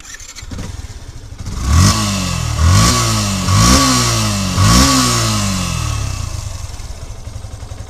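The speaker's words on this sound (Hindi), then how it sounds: "और इस बाइक का आप इंजन का साउंड सुन लें।" A motorcycle engine runs close by, loud and steady, with four rhythmic revs rising and falling about a second apart before settling back toward idle.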